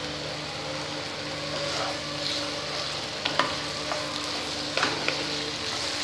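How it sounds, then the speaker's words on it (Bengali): Spice paste stir-fried on high flame for chhanar dalna, a dense steady sizzle up close, with a handful of spatula scrapes and taps toward the end and no talking. "মশলাটা ভালোভাবে কষে গিয়েছে"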